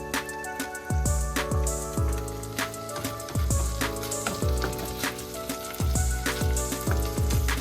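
Garlic and beef stir-frying in a pan, a steady loud sizzle punctuated by repeated clanks and scrapes of a spatula against the pan in an uneven rhythm.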